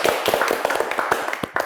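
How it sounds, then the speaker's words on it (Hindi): Studio audience applauding on a morning talk show, a short burst of quick, close hand claps at an uneven rhythm, loud and dry. "ताली होनी चाहिए."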